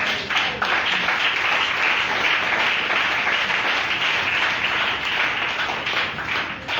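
A church congregation acclaiming the Lord with dense, continuous clapping that stays loud and full from start to finish.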